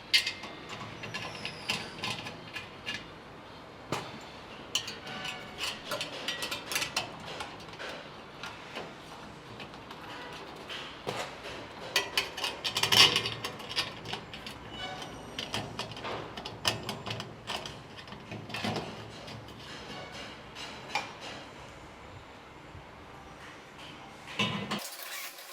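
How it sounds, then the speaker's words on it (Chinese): Metal screws clink and rattle against the pole of a pneumatic sauce dispenser stand as they are fitted on, with scattered small ticks and knocks over a quiet room, nobody speaking. "先把螺丝给它套上去。"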